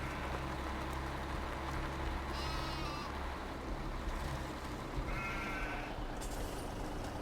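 Sheep in Farming Simulator 17 give two brief bleats, one early and one later, heard over a constant engine-like drone in the game.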